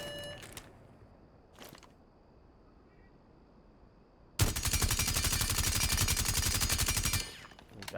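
Suppressed gunfire from a weapon in the video game Rainbow Six Siege: a dense, rapid automatic burst lasting about three seconds, loud and close, following quieter ambient game sounds and a couple of brief earlier noises.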